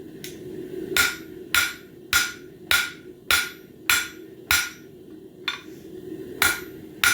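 A hammer knocks a bend out of a metal bird feeder hanger. About a dozen sharp, ringing blows land at a steady pace, each with a brief metallic decay, over a low background rumble.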